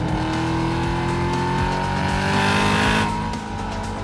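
A 2022 Cadillac CT5-V Blackwing sedan accelerates hard on a race track, its engine roaring loud and steady as the pitch climbs through the gear, with the drone dropping slightly near the end.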